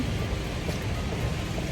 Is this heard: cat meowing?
no